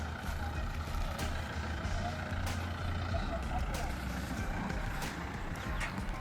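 A tempo truck loaded with onion sacks rumbles with a steady engine drone, heard from close by and fairly quiet with a constant low hum throughout.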